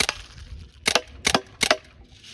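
A Crosman M1 full-auto BB gun fires three sharp, snappy cracks spaced about a third of a second apart, close and fairly loud over a quiet background.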